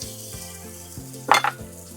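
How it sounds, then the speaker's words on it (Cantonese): Shrimp fry in a little oil in a hot wok for Yangzhou fried rice, giving a steady close sizzle with a brief loud stirring scrape partway through. "煎咗啲蝦先，我哋。"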